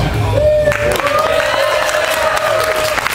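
A crowd applauds loudly and steadily for about three seconds, with a few cheers rising over the clapping.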